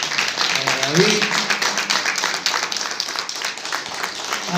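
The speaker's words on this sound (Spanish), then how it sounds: "quiero pedirle un aplauso para" A church congregation at a Sunday service breaks into steady, dense applause that fills the room for several seconds, with a voice briefly calling out over the clapping.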